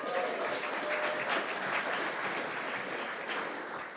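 An audience at an astronaut scholar technical conference claps steadily, a dense, sustained round of applause that holds evenly before tapering slightly at the end.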